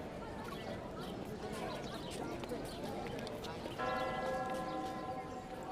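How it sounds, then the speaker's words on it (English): A ceremonial bell rings out near the end of a wedding vow ceremony, sustained bright tones over a busy crowd murmur and outdoor bustle. "One by one, couples ring the ceremonial bell as they make their vows"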